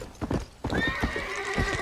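In the video game Red Dead Redemption, a horse's galloping hooves drum in a fast steady rhythm, joined partway through by a long, high, quavering neigh that carries over the hoofbeats to the end.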